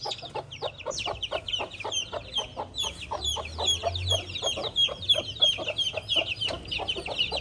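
Black hen with her chicks in a new coop, a steady stream of close peeping from the chicks mixed with soft low clucks from the hen, continuous and busy throughout.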